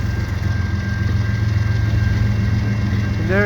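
Steady close rumble of a long CN freight train with tank cars passing in the snow at St Ambroise, continuous engine drone and rolling wheel noise with a brief rising tone near the end.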